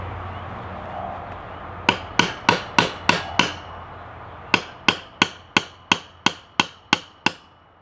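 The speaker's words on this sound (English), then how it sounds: "good hammering action." A hammer strikes metal in two sharp series while destroying a ZT 0180 knife, six rapid blows, a pause, then about nine more evenly spaced ringing hits, close and loud.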